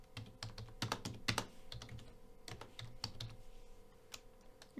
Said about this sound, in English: Let's type a commit message.